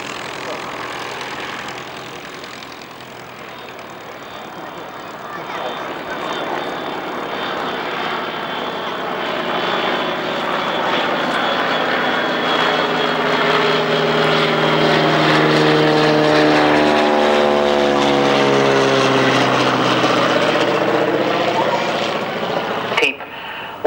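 A World War I German LVG biplane flying at Old Warden, its propeller engine droning steadily and loud, swelling as it passes near with a sweeping pitch shift, while a commentator talks over it.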